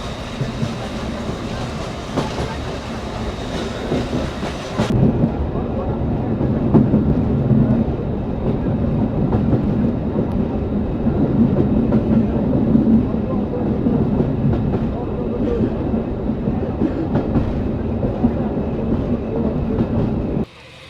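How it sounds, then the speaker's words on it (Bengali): A Rajshahi to Rohonpur commuter express train runs steadily, its loud rumble and rhythmic clickety-clack filling the whole stretch after a brief quieter opening, heard from inside the carriage. "ট্রেন আমাদের চলছে দেখেন"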